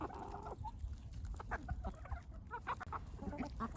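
Backyard hens, including a blue Orpington and a barred rock, cluck softly nearby in a loose scatter of short calls over a low, steady background murmur.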